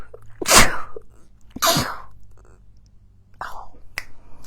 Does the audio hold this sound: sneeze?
yes